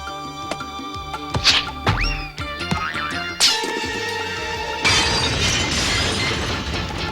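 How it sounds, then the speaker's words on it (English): A lamp smashes to bits in an animated cartoon: a run of sharp crashes and tinkling shards with sliding whistles and zany effects, then a bright, sustained shower of breaking glass that trails on to the end. "Mama's favorite lamp. Smashed all to bits."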